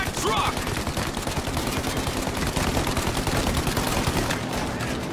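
Rapid, sustained gunfire from the video game Mafia: Definitive Edition rattles loudly and continuously, dense bursts overlapping without pause, with a faint voice underneath.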